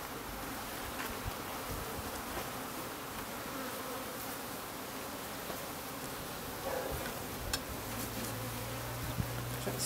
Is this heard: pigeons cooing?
no